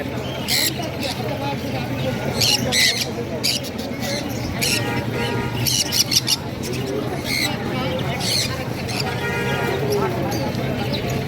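Crimson-bellied conure parrots at a busy bird market in Mirpur give sharp, repeated squawks in short bursts, heard over a constant crowd murmur and nearby people talking.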